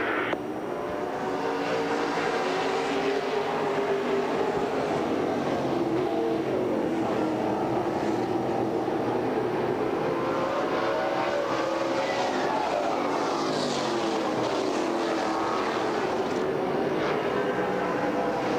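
Race cars roar past at the Tucson Winter Heat race, a continuous loud engine drone that swells and fades as the pack goes by, with no talk.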